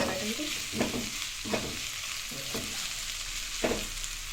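Spices such as coriander seeds frying for bagara rice while being stirred in a pan: a constant oily sizzle broken by several soft, evenly spaced scraping strokes, close and with no voices.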